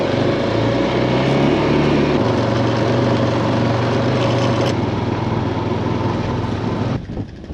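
Strong wind on a farm buffets the microphone outdoors, a loud, continuous low roar and rumble that holds steady for several seconds before dropping off near the end.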